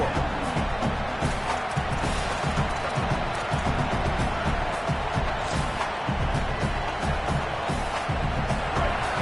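A stadium crowd in a college football video game, a loud, dense roar of cheering and clapping that stays steady for several seconds, with murmured voices inside the noise.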